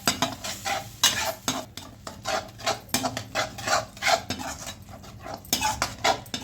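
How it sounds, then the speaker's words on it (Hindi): A spoon stirs spices roasted with gram flour and leftover bottle gourd juice in a pan, repeated rhythmic scraping strokes over a steady sizzle, close and fairly loud, no talking. "जो लौकी का जूस बचा था हमारा, इसको भी इसी में हम मसाले के साथ डाल देते हैं। मसाले को अच्छे से हम पका लेते हैं।"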